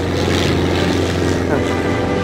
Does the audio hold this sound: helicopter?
yes